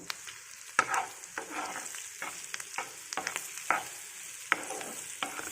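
Stuffed green chillies fry in a hot pan while being stirred, a steady bright sizzle broken by repeated scraping and clinking strokes of a spoon at an uneven rhythm.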